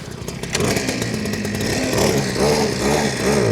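A $200 Temu 2-stroke mini sportbike engine runs close by at a fast, raspy idle, its buzzing, chainsaw-like putter holding steady with slight rises in revs and no talk.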